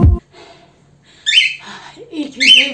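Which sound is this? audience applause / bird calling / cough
bird calling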